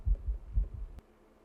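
A heartbeat sound effect from the Korean drama Moving gives a few soft, deep, low thuds in a quick double rhythm, then fades to quiet.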